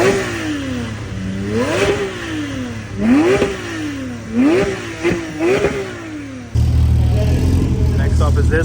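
At a classic Porsche car meet, a car engine revs repeatedly, rising and falling in several sharp bursts, then settles into a louder, rougher rumble near the end.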